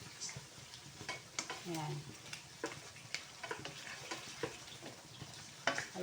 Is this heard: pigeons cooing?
no